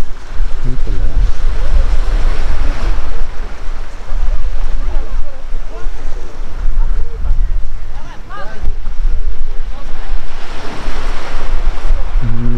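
Waves wash continuously onto a beach in Yalta, Crimea, a loud surf roar with wind buffeting the microphone, steady throughout with brief swells.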